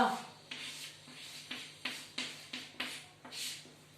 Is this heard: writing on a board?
yes